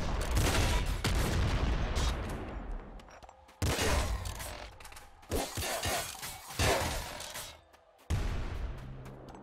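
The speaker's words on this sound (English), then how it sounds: "Don't fire the disc gun like that." Disc gun firing in the video game Nuclear Throne, loud bursts of shattering, crashing gunfire-like game effects in several clustered volleys with brief gaps between them.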